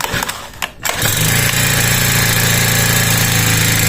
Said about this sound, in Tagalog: At aandar na po itong ating grass cutter.